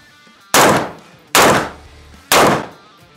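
A gold-plated AK rifle firing .308 rounds at a ballistic plate: three loud, sharp single shots spaced about a second apart, each with a short decaying tail.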